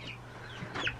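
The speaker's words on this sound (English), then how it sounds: "Brooklyn, do you want one of the chickens for you?" A pet chicken clucks briefly near the end, over steady low background noise, with a short burst of louder hen vocalizing close by.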